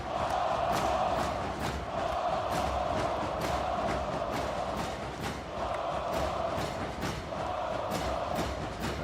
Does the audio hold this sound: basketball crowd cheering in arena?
yes